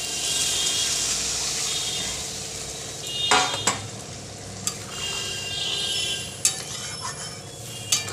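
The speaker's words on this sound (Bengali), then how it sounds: "একটু উষ্ণ গরম জল এর মধ্যে ঢেলে দিলাম" Warm water is poured into a frying yam and potato curry, giving a loud, steady sizzling hiss with a few sharp clinks of a utensil against the pot, with no one speaking.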